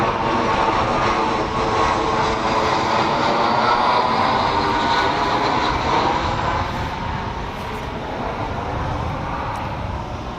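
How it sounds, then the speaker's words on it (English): Airplane flying overhead, a sustained loud engine roar with a broad droning rumble that holds steady and eases slightly toward the end, with no talking. "Got another airplane pass."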